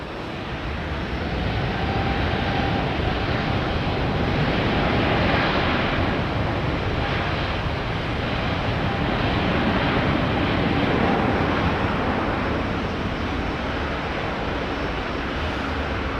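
A steady, loud jet roar from an Air India Airbus A320neo departing runway 09, holding a broad sustained rumble for the whole stretch with no voices.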